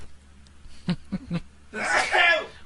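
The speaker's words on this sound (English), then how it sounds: "I'm going to sneeze right now." A few short breathy intakes build up, then a loud sneeze bursts out close to the microphone.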